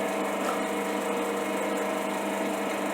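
A metal lathe threading a hard 45NCD16 steel tap, a steady mechanical hum and whir with a faint tonal drone, constant and close with no voices.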